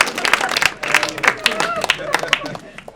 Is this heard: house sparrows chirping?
no